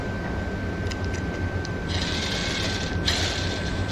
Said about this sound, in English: and turn and tighten your nuts and bolts